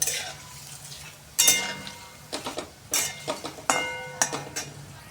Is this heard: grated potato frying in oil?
yes